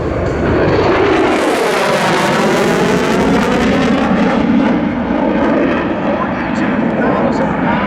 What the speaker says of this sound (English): these guys are flying this amazing airplane